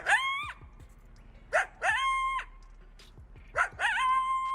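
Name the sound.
coyotes barking and howling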